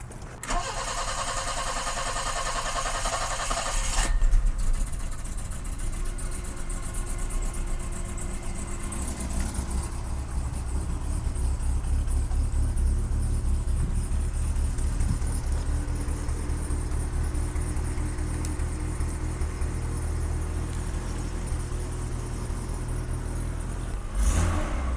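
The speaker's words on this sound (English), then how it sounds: "She's been sitting for about a week, so let's give it a cold start." A BMW E30 that has sat for a week cold-starts with a cranking burst and catches, then settles into a loud, steady close-up idle that runs on without a break.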